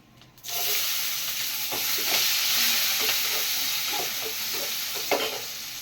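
Onion and tomato drop into hot oil in a pan for a plantain kola urundai kuzhambu and fry with a loud, steady sizzle, broken by occasional spoon stirs and scrapes up close.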